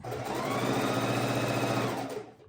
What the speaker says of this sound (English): Our sewing machine likes to move sometimes.